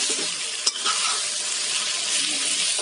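Pancit bihon vegetables with shrimp and chicken are stirred in a hot pan, a steady sizzle with a few scraping utensil knocks, close and continuous with no talking.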